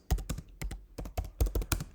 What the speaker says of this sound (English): Like I said, a lot of typing today.